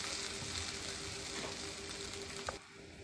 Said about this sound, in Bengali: আলু ভাজা হয়ে গেছে পানি দিলাই গরম পানি